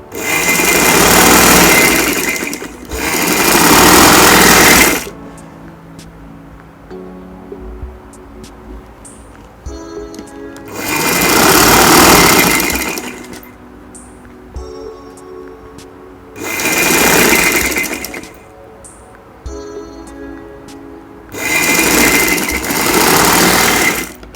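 A sewing machine stitches the back and front panels of a ladies' shirt together, running in four loud bursts of several seconds each, separated by quieter pauses with faint handling sounds.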